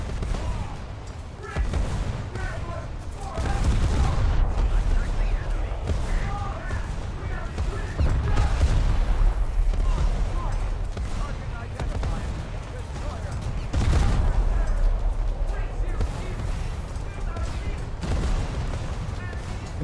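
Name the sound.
naval ship guns firing shells in a video game (War Thunder)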